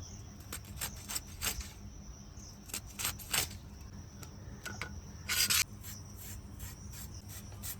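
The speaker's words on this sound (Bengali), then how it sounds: "এই আদাটা আমি বেটে নিচ্ছি, এই সর্ষেটা আমি বেটে নিচ্ছি" Ginger and mustard seeds are ground on a grinding stone in a hot kitchen. The stone scrapes and rubs in short, uneven strokes, fairly faint, with a steady insect-like chirr in the background.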